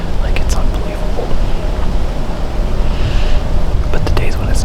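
Strong, gusty wind buffets the microphone outdoors in Pennsylvania, a loud continuous low rumble swelling and easing in waves for the whole stretch, with faint voice-like sounds in the mix.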